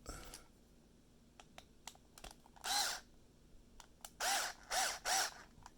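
A power driver tightens screws on the bumper of an Arrma Kraton 6S RC car, several short whirring bursts at close range separated by small clicks and handling noises.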